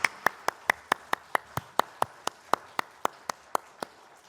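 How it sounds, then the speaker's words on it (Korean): Crisp, evenly spaced claps sound during a Sunday joint worship service at church, a quick, steady beat of sharp hand strikes roughly four per second that keeps an unbroken rhythm at moderate volume with a quiet room behind it. "하나님께 영광의 박수 올려드리겠습니다."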